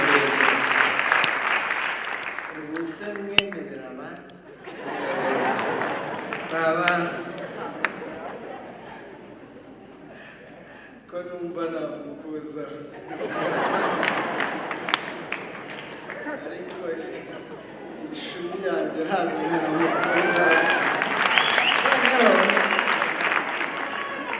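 A crowd claps to welcome arriving guests in waves that rise, dip around the middle, then swell again toward the end, with voices talking and calling out through the applause.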